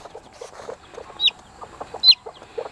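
Chickens in a pen give soft, low clucks in a steady scattered patter, broken twice by a sharp, high chirp nearby, with no one speaking.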